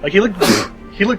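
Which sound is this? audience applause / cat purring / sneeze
sneeze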